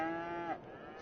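A farm cow in a video game gives one long, loud moo that swells and then drops away, with another animal call trailing off near the end.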